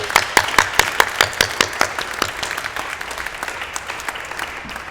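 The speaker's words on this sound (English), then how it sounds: "let's please give a round of applause for all of our winners." Applause for the winners at a prize ceremony, with individual claps clearly audible and rhythmic at first, then gradually thinning and fading as the clapping dies down.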